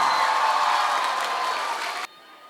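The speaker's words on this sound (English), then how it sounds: "A huge round of applause for our amazing performers" Festival audience at the HFS Thane Music Festival 2025 applauding and cheering performers after a song, a loud, dense roar of clapping and shouts that cuts off abruptly near the end.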